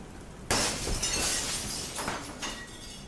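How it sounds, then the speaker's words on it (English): Glass shatters inside a house with a sudden loud crash, and then broken shards scatter and tinkle for a couple of seconds before fading out. "the sound of glass shattering exploded through the house"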